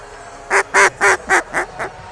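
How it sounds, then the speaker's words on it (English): Duck call blown at a Banana Ball baseball game in Savannah, Georgia: six loud, evenly spaced nasal quacks, fading slightly toward the end, with no talk over them. "So what else do you have there in the duck call department?"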